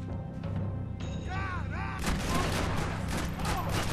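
Gunfire erupts in Max Payne 3, with a burst of loud, dense shots crackling over game sounds after a short whistling tone, while a player talks during the firefight.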